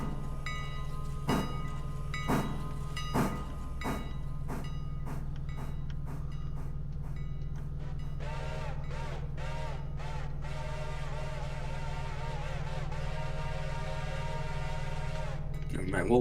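A Reading six-chime train whistle sounds in the Railroader video game. Several short clipped toots come first, followed by a long sustained chord blast over the low rumble of a locomotive.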